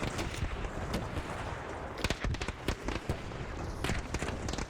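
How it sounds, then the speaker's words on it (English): A radar flare in ARC Raiders activates amid a dense run of sharp crackling bursts and pops, loud and close, thickening into rapid overlapping cracks toward the second half. "Place our radar flare. Activate it."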